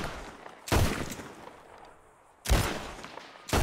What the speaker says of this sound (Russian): Включаете ее и смотрите, насколько будет большой взрыв, как будто это танк